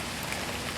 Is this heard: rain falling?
yes